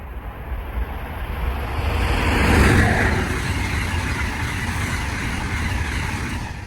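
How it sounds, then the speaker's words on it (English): A train rushes past nearby, its roar swelling to a peak and then easing into a steady rumble with wind buffeting the microphone. "that's a train"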